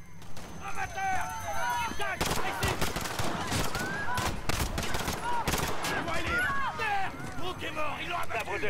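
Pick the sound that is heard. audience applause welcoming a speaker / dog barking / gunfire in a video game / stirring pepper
gunfire in a video game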